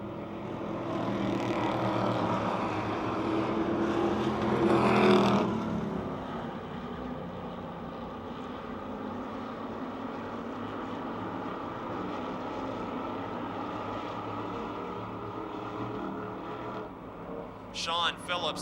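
Race cars at Motordrome Speedway roar around the track in a continuous engine drone, with a louder surge as a car passes near the start, under an announcer's steady commentary.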